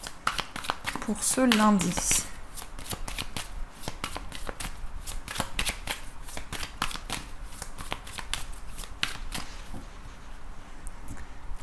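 Tarot cards riffled and shuffled by hand in a series of rapid crisp bursts that run through most of the clip, near and fairly loud, with someone speaking briefly at the start.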